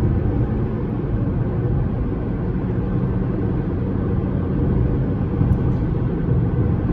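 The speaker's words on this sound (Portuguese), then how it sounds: "Saindo do pedágio, meia carga no acelerador, subidão, contornando a curva muito bem." A 2022 Jeep Compass Longitude T350 pulls uphill from a toll booth at half throttle, its engine a steady, muffled low drone heard from the cabin, with road rumble and no voices.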